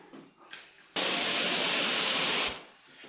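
A mini spray gun loaded with paint sprays a Lambretta GP scooter side panel in one sustained hissing burst of about a second and a half, close and loud. A short click and quieter handling noise come before the burst.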